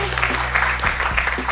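Live audience at a recorded show in Lansing clapping for a guest, a dense, fairly loud wash of applause running throughout with a voice over it.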